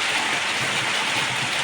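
Steady, dense patter of rain mixed with ice pellets, a hissing wash, continuous and close with no voices.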